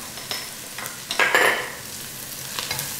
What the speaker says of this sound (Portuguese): Agora eu vou deixar fritar um pouquinho para o alho soltar também o seu gostinho maravilhoso.